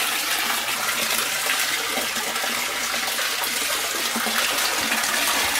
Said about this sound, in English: the water is coming out very rapidly into the pond